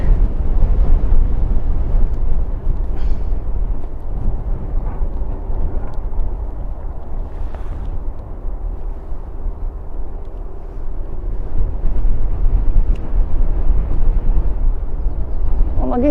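An Emirates airliner at Christchurch airport gives off a loud, steady broadband jet roar with deep rumble that holds constant throughout, with no pauses or breaks.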